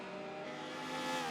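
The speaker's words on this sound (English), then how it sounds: "you hear DTS Mondo getting off of the accelerator, running a little bit up onto the red and yellow" A Porsche Carrera GT's steady high engine whine in a racing video game holds and then shifts pitch as the throttle eases, with faint tire noise over curbing; no voices.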